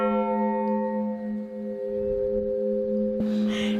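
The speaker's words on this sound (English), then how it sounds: "The bells are pretty damn big." A large church bell in Piran, Slovenia hums very close and loud, its long, rich tone slowly fading before a sharp new strike near the end.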